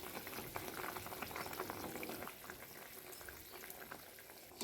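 Lentil fritter curry simmering in a pan after ghee and garam masala go in, a steady close bubbling and sizzling hiss that fills the clip with no voices.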